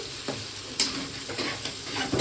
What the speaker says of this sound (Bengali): চিংড়ি মাছ আর চিংড়ি মাছের আলুটা আমি ভাজা বসিয়ে দিয়েছি